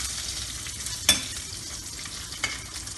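Whole garlic and slit green chillies sautéing in hot oil for potato sagu, a steady close sizzle with a couple of sharp stirring clinks.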